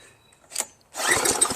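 A Craftsman pressure washer engine on choke gives a short pull-start rasp, then catches into a brief, rough, loud running burst up close, with no voices.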